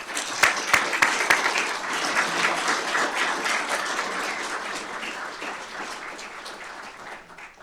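A crowd at a fire and rescue awards ceremony applauds firefighters. The applause starts loud and dense with sharp claps, then slowly fades over several seconds. No one speaks.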